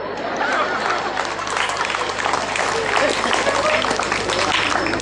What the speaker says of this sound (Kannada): ಪ್ರತಿಯೊಂದು ಹಾಸ್ಯ ಪ್ರಸಂಗ ಹೇಳಿದ ನಂತರ ಚಪ್ಪಾಳೆ ತಡ್ತಾ ಇದ್ರಿ